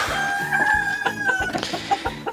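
Four laying hens cluck close by in a rhythmic series of short, throaty notes, with a drawn-out higher call running over the first half.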